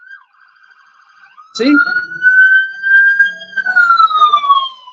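Emergency siren with a rising-and-falling wail, loud and close, starting after a brief faint tone and sweeping steadily downward toward the end, with a short spoken word near the start.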